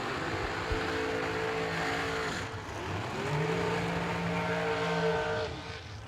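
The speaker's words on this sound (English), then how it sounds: "that was a Hoosier burnout in the left lane and a Mickey Thompson burnout in the right lane" A drag race car does a burnout on Hoosier tires while another car on Mickey Thompson tires burns out in the other lane, a sustained loud engine roar with rising and falling pitch against continuous tire noise.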